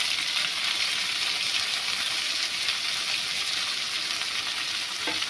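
Dill greens fry in a pan with garlic and green chili, giving a dense, steady sizzle that carries evenly from start to finish at close range, with no voices over it.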